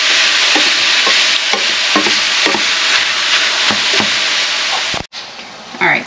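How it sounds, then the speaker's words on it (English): Ground beef browning in a pan for a cottage pie, with a steady loud sizzle, periodic stirring scrapes and a brief pause near the end. "So we're just going to brown up this ground beef."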